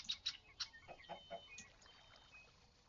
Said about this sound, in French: Ensuite, oh la poule.